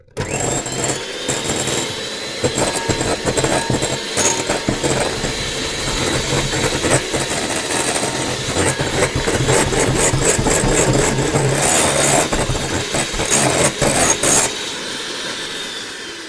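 An electric mixer whisking meringue for lemon meringue tartlets, a loud continuous whirring motor with rattling and scraping in the bowl, steady and close throughout before cutting off near the end.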